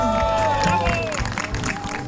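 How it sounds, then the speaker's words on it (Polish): Crowd applause with cheering fills the space, steady and fairly loud, with a busy babble of voices mixed through it. "Wielkie brawa dla"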